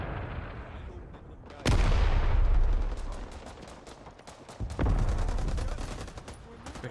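Two heavy blasts of a grenade and explosive gunfire in the Vietnam War video game Rising Storm 2: Vietnam, each a sudden loud boom trailing off, with scattered distant gunshots between them.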